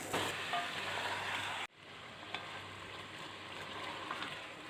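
Chicken pieces frying in a pan with light-browned onions, a steady broadband sizzle that cuts off abruptly partway through, then resumes as a quieter, even hiss with a few faint clinks.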